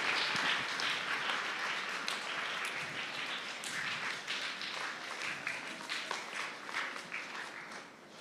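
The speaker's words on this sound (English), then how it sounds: "Can we give the class a huge round of applause for that beautiful assembly?" Applause for a Grade 6 class after its school assembly, a dense, fairly loud patter of many hands that gradually thins toward the end, with no talk over it.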